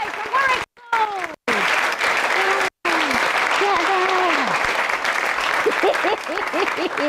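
A theatre audience at a Shakespeare performance final applauds regional finalists, producing loud, sustained clapping with cheers and whoops rising above it, briefly cut by short gaps of silence.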